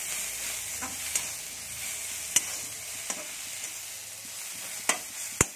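Ginger and garlic fry in a pan with a soft, even sizzle, punctuated by several sharp clinks and scrapes of a spoon against the pan, close by and without voices.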